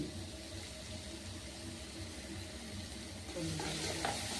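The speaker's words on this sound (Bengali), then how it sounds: "গাজর কুচিটাকে একটু ভেজে নেব।" Chopped carrot fries in oil with a little ghee for suji upma, a soft continuous sizzle that grows slightly louder toward the end, close up and fairly quiet, without any talk.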